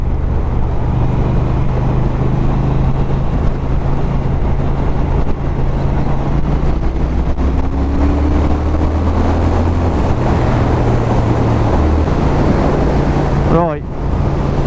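A Triumph Thruxton R motorcycle engine accelerates toward 7,000 rpm, a loud, steady close drone with rising pitch and heavy wind rush throughout the ride.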